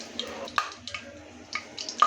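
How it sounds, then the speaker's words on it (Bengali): Dry red chillies fry in hot oil in a pan, the first step of a sweet pumpkin bhaji, giving faint, sparse crackles and sharp pops at irregular intervals. "একটু ভেজে নেব শুকনা মরিচটা"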